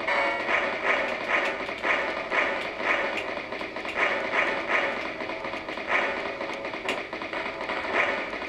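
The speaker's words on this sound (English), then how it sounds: "So here we shoot the bridge, get a tinging sound." Shooting a bridge in the Amiga shoot-'em-up Banshee gives a steady run of bright metallic tinging hits over dense, continuous game sound effects, with no talk.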